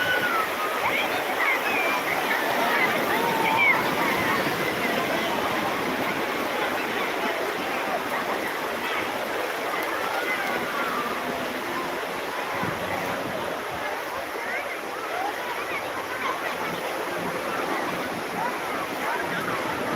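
Sea waves at Digha beach near the bathing ghat, heard as a steady, close wash of surf noise that rolls on for the whole stretch without clear breaks.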